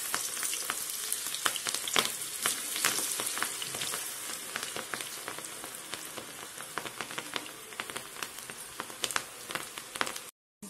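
Cabbage pakoda batter sizzles and crackles steadily in hot oil, a close, continuous frying hiss with dense popping that runs almost the whole clip before cutting off at the end.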